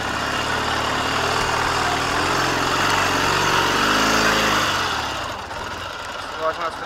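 A K-750 motorcycle engine chugs unevenly while riding, a close, rough mechanical drone that swells and then fades as the bike moves away, with a few knocks near the end.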